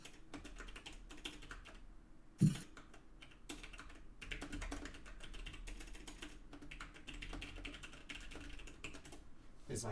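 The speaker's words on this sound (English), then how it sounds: "Is my keyboard really loud?" A computer keyboard clatters with light, uneven clicks from a live-streamed sketchbook show, faint taps in scattered bursts with one sharper knock partway through.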